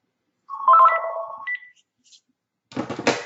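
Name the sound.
telephone ringing during a call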